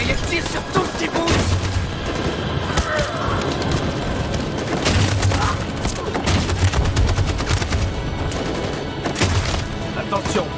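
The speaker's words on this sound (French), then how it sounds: "Cette saloperie de mitraillette tire sur tout ce qui bouge!" Machine gun fire in the video game Detroit: Become Human, with sustained rapid bursts and heavy thuds forming a dense, loud barrage that runs the whole way through, with voices faintly underneath.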